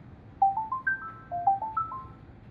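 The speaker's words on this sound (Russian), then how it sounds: "и слышим звук подключения" A Skydisco Aura 200 W karaoke speaker with two microphones plays its Bluetooth pairing chime, a short run of rising electronic tones repeated twice, clear and alone over faint background hiss.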